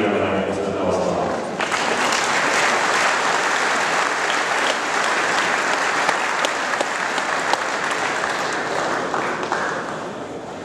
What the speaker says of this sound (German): Ich denke, für diese 4 Kühe hier einmal einen großen Applaus machen.